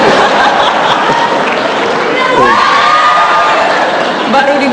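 A packed studio audience at an Indonesian talk show claps and cheers continuously, a dense, loud wash of applause with scattered shouts and crowd chatter throughout.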